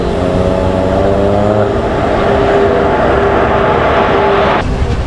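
A train stands at Angadipuram station on the Nilambur line, with a loud, steady engine rumble and a low humming drone filling the whole stretch, no voices present.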